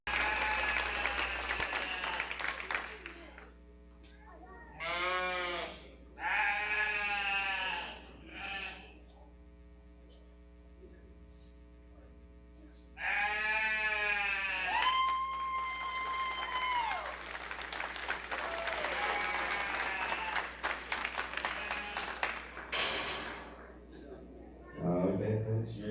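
Applause from the crowd at a 2022 county livestock stock show, a broad spattering of clapping that comes in bursts between stretches of amplified talk and animal-like calls in a large arena.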